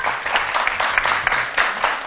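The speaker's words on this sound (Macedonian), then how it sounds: "зелени силен аплауз за него" Loud, dense applause from an audience at a school quiz-style show cheering the green team, a continuous close wash of clapping for about two seconds.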